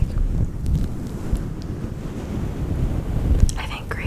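A fuzzy microphone cover being brushed close up, giving a steady whooshing wash like ocean surf that rises and falls gently throughout, with a few faint crackles near the end.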